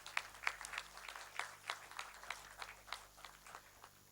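Sparse, faint clapping from a small conference audience greets a speaker called onstage, with individual claps audible in an uneven rhythm against quiet room hum.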